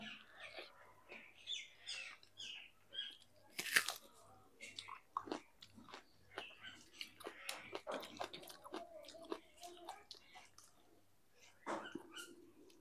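Someone bites and chews a meal of potatoes, onion and green chilli close up, with repeated crunchy bites and soft chewing throughout, plus faint bird chirps in the background.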